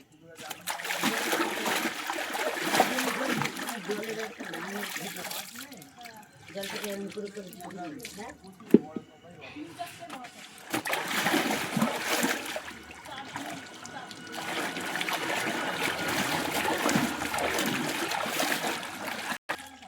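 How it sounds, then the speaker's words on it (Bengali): Clothes being washed by hand in a village pond, with repeated splashing and sloshing of water that comes in bursts and pauses, while a person talks over it. "আমার তো সব জামা কাপড় ধোয়া হয়ে গেছে"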